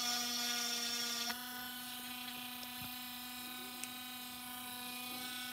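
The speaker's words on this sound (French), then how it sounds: "je fais d'abord l'endroit où je veux percer" A small drill whines steadily against a UV resin bead, a thin high-pitched motor tone that drops slightly after the first second and then holds, heard up close and alone.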